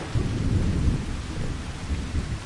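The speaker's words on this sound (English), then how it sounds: "And it is raining a bit." Rain patters steadily with deep rolling thunder in Farming Simulator 25, a loud, continuous low rumble lasting the whole stretch with no voices.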